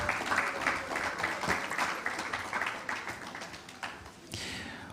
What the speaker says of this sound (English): Applause for him, please. A round of applause.